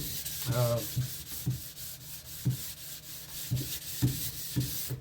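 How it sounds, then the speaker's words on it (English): Block sanding a firearm with a cork sanding block and 180-grit sandpaper, steady rhythmic back-and-forth rasping strokes, close and fairly quiet, with a brief low hum near the start. "I block sanded it with a cork sander, going this way right here with it"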